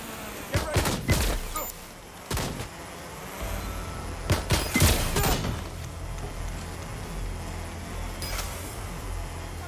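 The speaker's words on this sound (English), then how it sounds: "I'm taking fire!" Gunfire in Watch Dogs: Legion: sharp cracking shots in bursts, a cluster early and another near the middle, with scattered single reports over a rumbling engine-like background.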